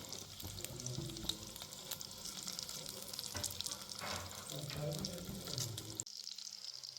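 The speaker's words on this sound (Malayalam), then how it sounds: "തിരിച്ചും മറിച്ചുമിട്ട് മീഡിയം ഫ്ലെയിമിൽ കളർ ചേഞ്ച് ആവുന്നത് വരെ ഫ്രൈ ചെയ്താൽ മതി." Chicken kebab pieces frying in a pan over a medium flame, giving a continuous crackling sizzle with a few sharper pops that stops abruptly near the end.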